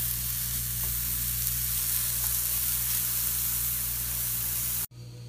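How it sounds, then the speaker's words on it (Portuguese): Cabbage sautés in a frying pan with seasoning, giving a loud, steady broadband sizzle that runs continuously before cutting off abruptly near the end, with no voices. "Só é pra dar uma refogadinha mesmo, ó."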